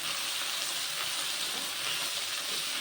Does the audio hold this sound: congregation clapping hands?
no